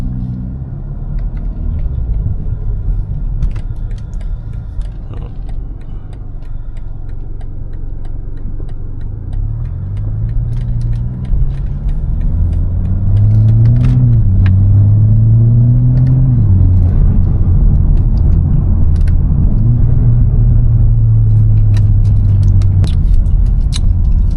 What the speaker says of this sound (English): Hear the intake that we just installed.